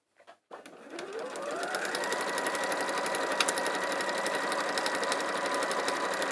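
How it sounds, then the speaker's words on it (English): Sewing machine stitches a yo-yo bag, starting after a couple of soft knocks and then ramping up into a steady, fast, even whirring hum with rapid needle ticks, close and continuous with no talking. "And then we'll sew."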